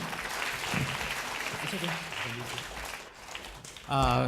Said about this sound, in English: can we give a round of applause to welcome Dr. Lim, everybody?